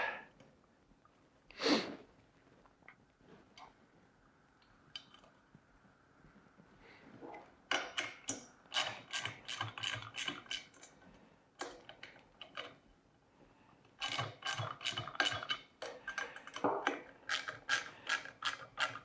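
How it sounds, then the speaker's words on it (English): Nuts and washers are hand-tightened onto bolts while a CycloShine 3.0 is assembled, giving bursts of rapid ratcheting clicks and metallic ticks in two long runs separated by quieter handling noises, close and faint. "Hand tighten it all up."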